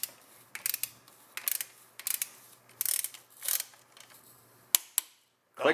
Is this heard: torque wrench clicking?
yes